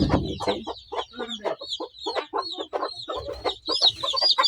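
Chickens cluck in a steady run of short, overlapping calls close by on a poultry farm where hens have just hatched chicks, with a few higher peeps mixed in.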